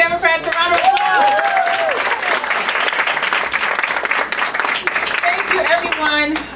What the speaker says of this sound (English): Let's give Bay Democrats a round of applause.